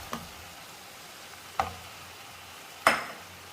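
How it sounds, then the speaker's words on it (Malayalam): Fried fish pieces going into tomato masala in a pan, a faint steady sizzle broken by three sharp scraping stirs spaced about a second and a half apart, close and without talk. "ഇതിലേക്ക് വറുത്ത് വെച്ചിരിക്കുന്ന മീൻ കഷ്ണങ്ങൾ ചേർക്കാം"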